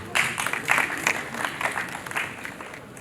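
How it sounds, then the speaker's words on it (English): Applause from a conference audience at an African Youth Day event, steady moderate clapping spread across a hall, fairly even in level for the whole stretch with no voices over it. "Let's clap for Ambassador Shuemimo Abiodun."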